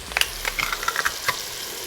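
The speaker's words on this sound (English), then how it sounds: "Add another tablespoon of our bacon fat, and then we'll put our garlic right in the center." Garlic hits hot bacon fat in a pot for a creamy loaded potato soup, giving a steady close sizzle with a quick scatter of crackles and pops through the short stretch.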